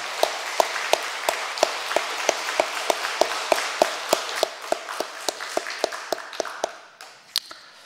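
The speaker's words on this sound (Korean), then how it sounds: "우리 박수 한번 쳐주세요" A church congregation at a Wednesday midday fasting prayer service claps in a slow, even rhythm of distinct sharp claps over a soft wash of scattered hand noise, fading out near the end.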